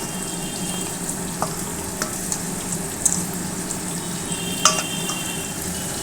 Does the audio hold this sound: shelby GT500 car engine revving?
no